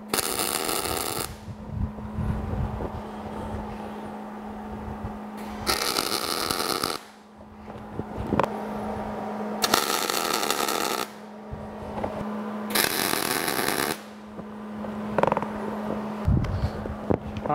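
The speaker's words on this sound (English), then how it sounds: "We're going to go ahead and do the outsides now, just tacking them again." Tack welding on a steel surface plate stand, four separate bursts of harsh crackling welding noise of roughly a second each, with a steady low hum and a few clanks in the pauses.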